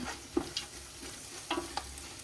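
Chili powder stirred into masala frying in a pan for biryani: a soft sizzle under light scraping strokes of a spoon, several brief clicks and scrapes, close and quiet, no speech.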